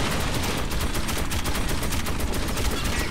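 Sustained automatic gunfire in Metro 2033 Redux, loud and close, rapid shots hammering in a steady unbroken stream with no pauses.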